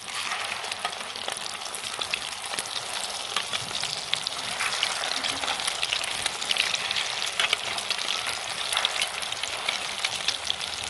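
Chicken shami kabab patties fry steadily in a pan, giving a continuous close sizzle with soft crackles throughout and no talking.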